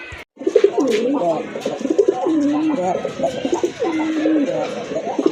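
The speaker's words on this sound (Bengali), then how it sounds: "কবুতরগুলো আপনাদেরকে দেখাই" A pair of sky-blue Rajgolla pigeons coo in low, rolling phrases, repeating steadily and close by, with a soft background hum and a brief gap near the start.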